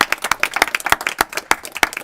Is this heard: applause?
yes